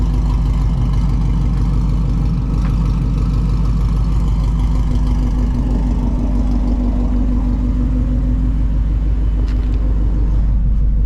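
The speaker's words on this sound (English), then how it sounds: "The long tube headers really kind of gives this voodoo the sound I believe it deserves." A Shelby GT350 Mustang with its Voodoo engine and long tube headers rumbles at idle, a loud, deep and steady burble with a throbbing low pulse, close up and unbroken for the whole stretch.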